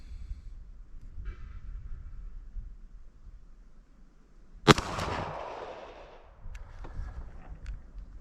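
A Beretta APX A1 Compact pistol fires a single sharp shot at an outdoor range, the crack loud against a low background hum and trailing into a short echo, followed by faint handling clicks.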